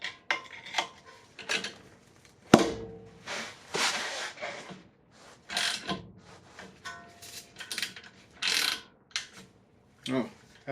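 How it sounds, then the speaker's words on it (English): Long-handle ratchet with a 19mm socket turning on a 2008 Acura MDX front axle job, giving intermittent metallic clicks and clanks in short bursts, close up, with brief talk between. "19mm and long handle ratchet."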